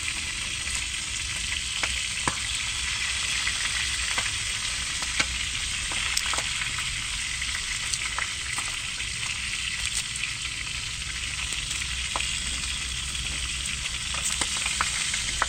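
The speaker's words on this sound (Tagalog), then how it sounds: "Yan ang maganda sa prito. Nalagi-lagitik." Catfish frying in a pan, a dense continuous sizzle with crackling pops scattered throughout, close and loud.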